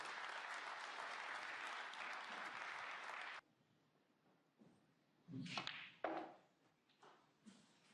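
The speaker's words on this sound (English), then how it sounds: "that smattering of applause to welcome the players onto table 2" A light smattering of applause from a snooker crowd welcoming the players onto table 2 at the Welsh Open, steady for a few seconds, then fading into scattered claps and thuds.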